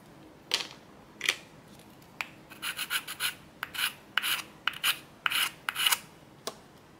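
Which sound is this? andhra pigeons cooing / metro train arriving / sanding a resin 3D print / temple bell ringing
sanding a resin 3D print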